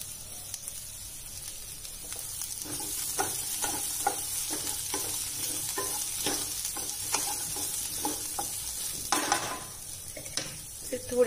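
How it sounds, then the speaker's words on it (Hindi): Chopped capsicum being stirred in a frying pan for paneer bhurji, with a steady run of spatula scrapes over a soft continuous sizzle, close by and with no talk. "तो अब हम इसमें कटे हुए कैप्सिकम ऐड कर देंगे। इसे मिक्स करके थोड़ा सॉफ्ट होने देंगे।"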